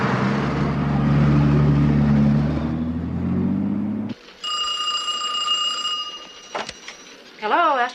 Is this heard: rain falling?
no